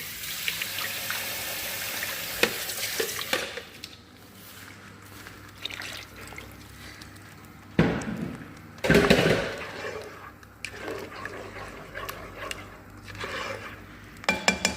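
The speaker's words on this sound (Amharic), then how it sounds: "ትንሽ ውሃ ለቀልቀዋለሁ" Water poured into a hot pan while making chicken curry, with light pouring and dripping, scattered clinks of utensils against the pan, and a couple of louder clattering bursts partway through, all close and without speech.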